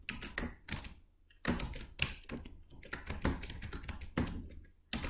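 Quick bursts of typing on a computer keyboard, close and fairly quiet, with clustered key clicks separated by short pauses and no talk.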